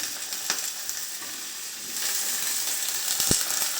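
Eggplant slices frying in hot oil, a steady close sizzle and crackle with small pops, growing a little louder and denser toward the end.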